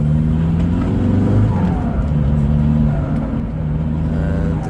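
An Audi A3 TDI diesel engine pulls steadily under acceleration from inside the cabin, a low droning hum with gradually shifting pitch and constant road noise.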